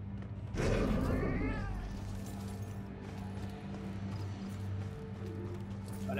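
A cat in Murdered: Soul Suspect gives a loud, drawn-out wavering meow up close. Faint footsteps and low game ambience continue after it.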